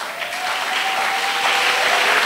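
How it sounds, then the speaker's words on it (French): A church congregation breaks into loud, dense applause and acclamation, a steady wash of many hands clapping at close range that holds evenly throughout. "Acclamation."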